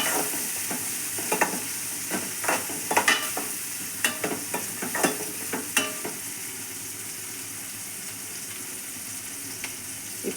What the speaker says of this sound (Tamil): இப்போ பச்சை மிளகாய், காஞ்ச மிளகாய் 2ஐயும் போட போகிறோம். நல்லா டார்க் ப்ரௌன் கலரில் வர வதக்கப்படும்.